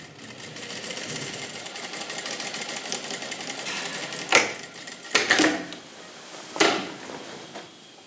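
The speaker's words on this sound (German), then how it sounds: "An der Maschine näht er die Ärmel ein, Oberstoff an Oberstoff" An industrial sewing machine stitches the sleeves into a tailcoat, outer fabric to outer fabric, humming steadily at close range and broken by a few louder clacking bursts near the end.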